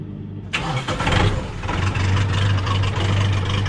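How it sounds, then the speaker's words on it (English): A farm tractor engine cranks, catches abruptly and settles into a steady, loud, rumbling idle, close by with no talking. "We're gonna start the tractor first of all."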